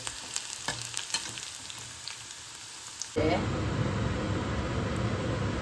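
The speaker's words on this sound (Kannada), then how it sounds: "ಅದಕ್ಕೆ ಎರಡಕ್ಕೂ ಒಟ್ಟಿಗೆ ನಾನು ಈಗ ಫ್ರೈ ಮಾಡ್ತಾ ಇದ್ದೇನೆ" Onions browning in a pan give a close, crackling sizzle, then it changes abruptly to a louder, denser, even frying hiss.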